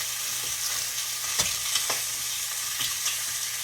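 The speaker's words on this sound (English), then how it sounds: "My bacon is cooking over there" Bacon frying in a pan gives a steady sizzle with scattered pops and spits, close by and alone with no voices.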